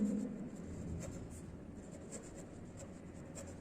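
Writing on a classroom board: soft, close scratching strokes with faint taps, quiet and continuous with no talk over it.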